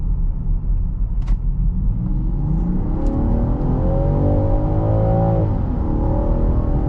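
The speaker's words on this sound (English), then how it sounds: "We'll punch it, see how fast the gearbox reacts, and see how fast we can get up to 60." A 2022 Land Rover Defender SE X-Dynamic accelerates hard from about 25 mph in sport mode, its engine note rising steadily and loudly under load with a clear upshift, heard from inside the cabin over road rumble.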